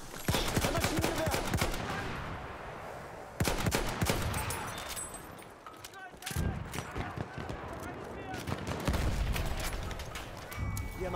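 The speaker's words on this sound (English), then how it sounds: "Ein Maschinengewehr!" Dense, loud bursts of machine gun fire in the World War I shooter Battlefield 1, rattling almost without pause over layered battlefield gunfire, with a voice talking over the din.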